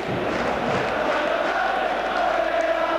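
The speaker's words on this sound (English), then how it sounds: "There are the St Johnstone fans applauding their team off the field." St Johnstone football fans in the stadium crowd at a Rangers match applaud their team off the field at half-time, a steady, continuous wash of clapping and crowd noise from a distance throughout.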